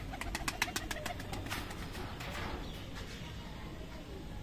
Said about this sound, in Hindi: तो दोस्तों फाइनली एक कबूतर हमने हाथ में लिया है।